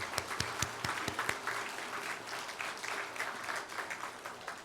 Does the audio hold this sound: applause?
yes